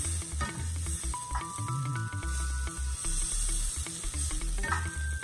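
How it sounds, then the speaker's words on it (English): Butter sizzling in a hot skillet at a home cooking station, a steady frying hiss running throughout alongside scattered clicks and clatter of kitchen utensils, fairly close and continuous. "Add butter to my skillet."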